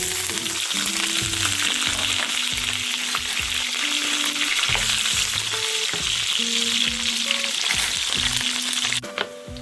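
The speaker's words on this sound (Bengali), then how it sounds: "তেলটা গরম হয়ে গেছে মিটবলগুলো আমি ফ্রাই করে" Meatballs frying in hot oil in a pan for biryani, a strong steady sizzle with low tonal hums underneath and a clatter near the end as they are turned.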